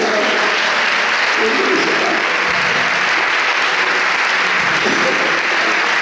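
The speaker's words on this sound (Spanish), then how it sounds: "Denle un aplauso al Señor." Sustained applause from a church congregation, dense and loud, with some cheering voices mixed in, continuing steadily throughout.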